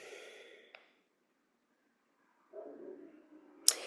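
Slow, soft breaths during a gentle morning yoga practice: a long exhale, a pause of near silence, then another drawn breath, close and quiet with no speech.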